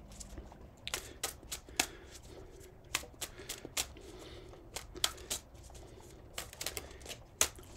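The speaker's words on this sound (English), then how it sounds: "Shuffle." Tarot cards are shuffled by hand in quick, irregular riffling bursts of crisp papery snaps, close up and fairly quiet, with no voice over them.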